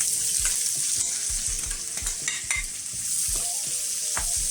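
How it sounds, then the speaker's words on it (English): Bacon and onions sizzle steadily in a frying pan for a quiche filling as green onions go in, with repeated scraping stir strokes in a loose rhythm, close and continuous, no talking. "now I'm going to add our green onions to this"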